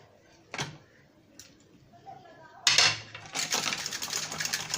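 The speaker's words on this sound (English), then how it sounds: "The egg yolk and the vegetables get mixed. Now I'm mixing it with this." Egg being beaten together with vegetables and spices in a bowl, quick clicking and scraping strokes that start sparse, then pick up into a dense, busy rhythm of whisking near the mic.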